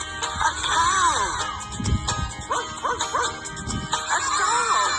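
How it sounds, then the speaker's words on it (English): Dog barking a few times amid a children's farm song with music and sung voices, the barks sharp and brief in the middle of the passage. "A dog!"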